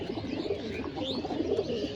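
A khaki pigeon in a loft gives soft, low cooing, a brief murmuring call over steady background noise, close by and fairly quiet, with no voices.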